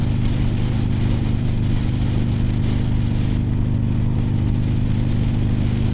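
A Buell Ulysses adventure sport motorcycle with a Sportster 1200 V-twin engine runs loud and close, a steady, throbbing low rumble held without pause.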